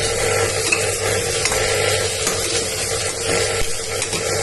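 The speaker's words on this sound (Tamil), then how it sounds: "வெங்காயம் போட்டு நல்லா வதக்கணும்" Onions sauté in oil with whole spices such as mustard seeds and cloves, a dense, steady sizzle with a mechanical scraping texture as they are stirred, close and loud throughout, with no talk.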